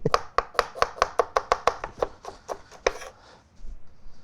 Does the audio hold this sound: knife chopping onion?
yes